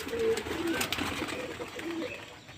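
Pigeons coo on a summer morning, with a few soft, low, rounded coos repeating at moderate distance over light background noise.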